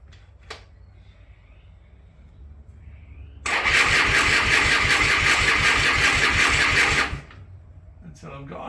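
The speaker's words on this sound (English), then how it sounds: "For me it's electric start, so all I have to do is crank it around on that." A Triumph T140 motorcycle engine cranks on its electric starter in one loud, close burst of about three and a half seconds, a rapid pulsing churn that stops abruptly, with quiet before and after.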